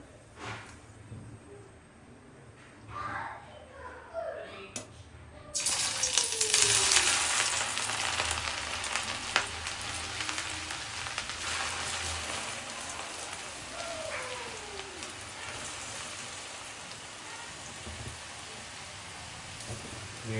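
Potato mixture frying in hot oil on a high flame, a steady, close crackling sizzle that swells loudly once the batter hits the oil and keeps hissing, with someone talking over it.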